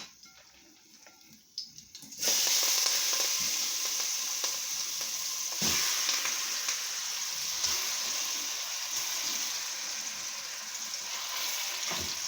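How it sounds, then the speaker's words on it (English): Goat meat for Jamaican curried goat hits a hot pan at about two seconds and then sizzles loudly and steadily, with no talk over the frying. "I'm going to add all my meat to my pan."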